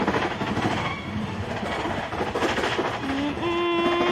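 Rumbling, clattering train wheels in a Roblox video game running steadily, loud and close, ending with a sustained horn-like tone.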